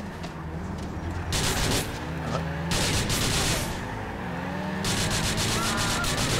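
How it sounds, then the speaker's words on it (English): Rapid gunfire and shooting from the driving-and-shooting video game GTA IV, loud and near, with bursts of shots over engine-like noise and a voice speaking in between. "Stop shooting me!"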